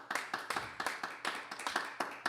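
Faint, sparse clapping from a small audience at a Broadway-to-jazz library concert, with distinct claps in a loose, fairly regular rhythm rather than a full roar.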